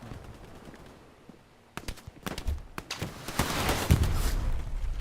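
Machine gun fire in a combat video game, starting quiet and then breaking into loud, ragged bursts of rapid shots with sharp cracks, building into sustained chattering fire toward the end.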